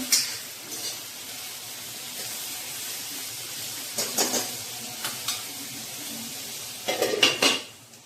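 Onion and tomato sauté in a pan with a soft, steady sizzle, interrupted by a few clattering bursts of a spoon scraping and knocking against the pan; no talk.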